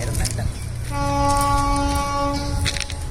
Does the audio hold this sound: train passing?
yes